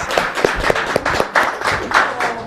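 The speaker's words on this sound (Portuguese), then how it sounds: "Salve de palmas." A small group claps for employees during an interview celebration, producing distinct, fairly loud individual claps in a loose rhythm that thicken into brisk applause close by.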